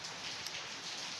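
Steady rain falls without pause, a dense close hiss of drops striking a surface with no voices, while a single brighter drop or splash stands out partway through.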